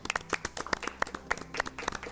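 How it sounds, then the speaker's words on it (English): An audience at a grand finale competition claps briefly, with scattered, fairly quiet hand claps in an uneven rhythm rather than a full ovation. "A large round of applause for Janatantra."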